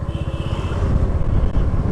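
A motorbike engine drones steadily while riding out to a waterfall on a fine morning, a continuous low rumble with wind noise that swells slightly toward the end, with no talking.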